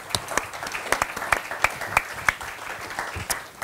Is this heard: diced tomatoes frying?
no